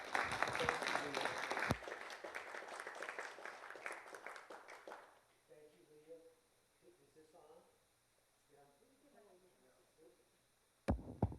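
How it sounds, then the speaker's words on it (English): Audience applause fills a talk event on race and class solidarity: a dense burst of clapping for several seconds that then fades into quieter murmuring and talk, with a sharp thump near the end. "let's give him a round of applause."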